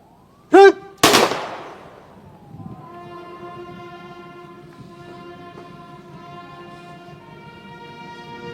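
Rifles fire a volley at the state funeral of Indonesia's sixth vice president: a sharp crack, then a louder echoing report, followed by a long sustained tone that rings on steadily.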